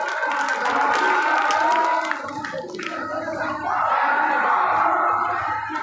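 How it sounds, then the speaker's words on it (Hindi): An audience claps loudly and continuously at a school honour ceremony in Maniyar, Mahmadipur, a dense, steady wash of applause with a voice speaking over it. "जोरदार ताली से स्वागत कीजिए।"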